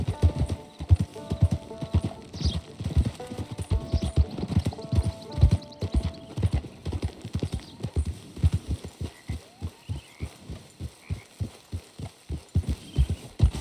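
Rhythmic clip-clop of horse hooves at a steady walking pace in the video game Red Dead Redemption 2, close and clear, with a brief whinny early on and no speech.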